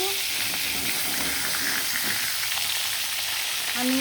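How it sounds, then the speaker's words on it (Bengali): River rohu fish fries in hot oil in a pan, a close, steady sizzle and crackle that continues throughout, with faint speech now and then. "মাছটা আর একটু বাজা বাজা হলে উল্টাবো"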